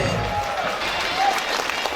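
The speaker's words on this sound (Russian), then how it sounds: "Аплодисменты." Applause from a New Year concert audience in the village of Iske Baltach, with steady, dense clapping filling the whole stretch and a voice faintly audible beneath it.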